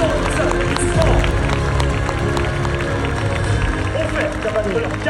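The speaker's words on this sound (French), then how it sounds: "Applaudissons." Audience at a Parc Astérix show applauding after a diving stunt, a dense sustained roar of clapping and crowd noise mixed with an announcer's voice and music.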